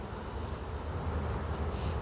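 Honeybees hum in a low, steady drone around an open national hive during an inspection, close and continuous, with no voices.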